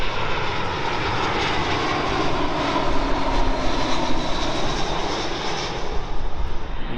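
Jet airliner engines roar at London Heathrow in a dense, broadband rush that stays loud and steady, swelling slightly midway as the aircraft passes nearby, with no talking over it.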